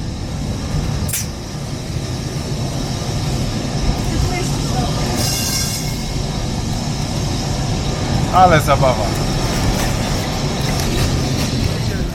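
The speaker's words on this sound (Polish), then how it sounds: "Dojechaliśmy na górę takim tramwajem, tramwaj pojechał." A tram in Lisbon rumbles and clanks as it climbs a hill, a loud continuous rolling noise with occasional squeals, while people talk over it.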